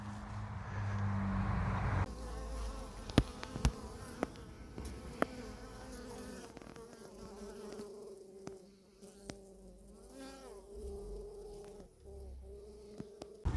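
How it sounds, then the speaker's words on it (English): Steady buzzing of many honeybees swarming close by around hives in Cornwall, a dense insect hum with occasional louder passes of individual bees near the microphone. "there's a little clip of my bees this morning"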